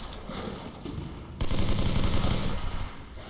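Sustained machine gun fire in the video game Legendary rattles continuously and loudly, swelling into a heavier, denser stretch of rapid shots midway through.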